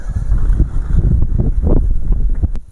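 Strong, buffeting wind on a Carpathian mountain summit roars across the microphone in continuous low gusts, filling the clip with rumbling noise and no voices.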